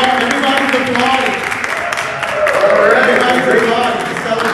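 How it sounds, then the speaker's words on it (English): A church congregation applauding a guest joining by video call, steady broadband clapping and crowd noise with a voice talking over it throughout. "Everybody's applauding. Celebrating you."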